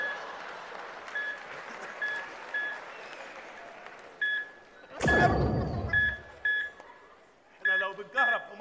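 A mobile phone ringtone beeps in short repeating electronic bursts. People talk over it midway, and the beeping keeps going underneath.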